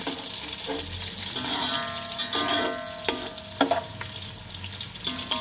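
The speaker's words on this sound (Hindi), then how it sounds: "लाइट ब्राउन कलर आने तक हम इसे फ्राई करेंगे प्याज को" Chopped onion sizzles in hot oil in a pan, a steady close frying hiss broken by a few sharp clinks and stirring knocks.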